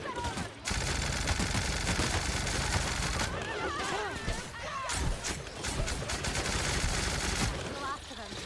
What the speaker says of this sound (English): Oh, I wanted to try the science gun out.